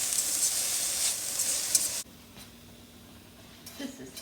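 Onions sizzling in a hot pan, a bright hiss for about two seconds that drops abruptly to a low, quieter simmer, with a brief voice near the end.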